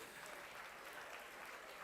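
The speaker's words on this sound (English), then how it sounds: "Give yourselves one more last round of applause" A school audience at an academic challenge event gives a final round of applause, a faint, steady patter of many hands clapping together for a short stretch with no voices.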